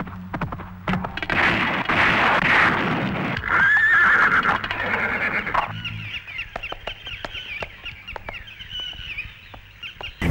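Two horses run through a large pool of water between hills during a film shoot, with loud close neighs and whinnies followed by splashing hoofbeats and clip-clops, with chickens clucking nearby.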